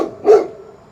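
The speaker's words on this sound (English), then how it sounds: "My dog's getting ready to bark because there's another dog in the neighborhood, so you might hear it." A dog gives a single loud, close bark at another dog in the neighborhood, a short sharp woof that fades into a quiet tail.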